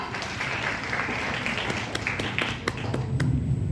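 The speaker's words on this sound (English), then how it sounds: "Clap for Priya." An audience at a women's entrepreneurship and startup session claps for a participant: a steady, moderately loud patter of many hands that runs the whole time with a few sharper claps standing out.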